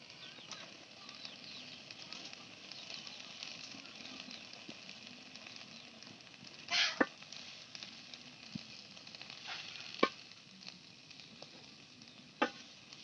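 Water spinach frying with dried fish and spices gives a soft, steady sizzle, broken by occasional scrapes and clinks as it is stirred in the pan; quiet and without speech.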